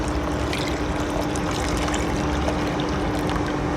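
A rice mixture pours into boiling milk for phirni with a continuous, fairly loud liquid rush and bubbling, steady from start to finish with no voices.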